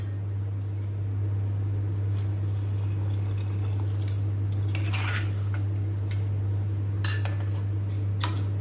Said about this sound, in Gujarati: પાણી એડ કરી દઈશું અંદર